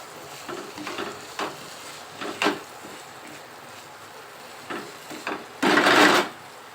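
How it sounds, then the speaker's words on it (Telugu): A spoon stirs eggs into a dhaba-style potato and egg masala curry, giving several short scraping strokes against the pan and ending in a louder, longer scrape, with no talk. "ఇప్పుడు ఎగ్స్ వేసేసుకొని ఒకసారి కలపాలి."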